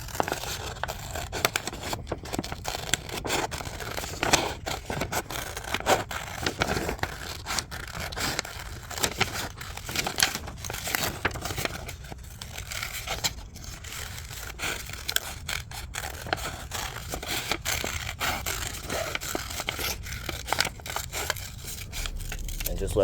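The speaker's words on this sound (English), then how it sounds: "Get yourself some scissors. Don't mind my broken pink ones. They work. And then just cut it out. Enjoy yourself some scissor ASMR." Broken pink scissors snip steadily through a paper bait template, a continuous close run of scraping, crisp cuts with no pauses and no talk.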